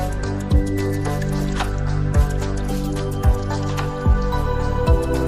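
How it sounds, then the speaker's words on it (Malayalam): Onions being stirred in a pan for gobi manchurian: soft, wet, squishy strokes at a steady rhythm, about one a second, close by over a sustained tonal background. "ഒന്ന് മിക്സ് ചെയ്ത് കൊടുക്കാം."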